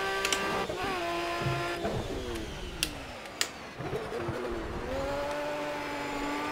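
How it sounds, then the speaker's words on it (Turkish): Aston Martin Vantage engine in the racing game Project Cars, revving up and down through gear shifts with rising and falling pitch sweeps, fairly quiet with a few sharp clicks. "Motor sesine bak."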